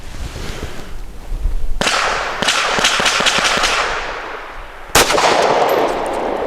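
Canik METE SFX pistol with a barrel over five inches, firing hollow point defensive loads outdoors: loud sharp reports, one at the start and a second about three seconds later, each followed by rumbling echo.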